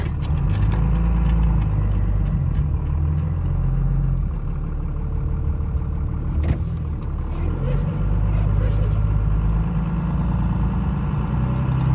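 Cummins diesel engine of a 1998-2002 Dodge Ram 2500 pickup on a short drive around the block, a loud continuous low rumble with shifting pitch heard from inside the cab, no talk.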